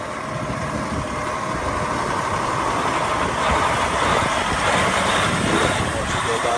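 A 2013 Kenworth T660 sleeper truck runs with a steady, close diesel idle and a broad rumble, while someone talks over it.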